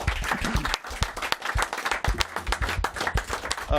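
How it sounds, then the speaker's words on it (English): An audience at a capacity-crowd live show gives a round of applause, a burst of dense, close clapping that carries steadily throughout. "So, Calvin Phillips, I think, deserves a round of applause, don't you?"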